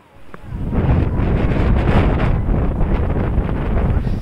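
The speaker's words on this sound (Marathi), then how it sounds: "वारा आलाय" Strong wind blowing across the microphone on an outing near a boat, a loud, continuous buffeting roar that swells in after a quiet start and stays heavy.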